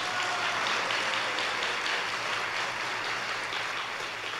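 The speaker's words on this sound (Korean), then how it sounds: "우리 크게 격려의 박수 보내주시면 좋겠습니다." A church congregation at a prayer gathering applauds in a broad, even wash of clapping that carries on steadily, somewhat distant, with no voices rising above it.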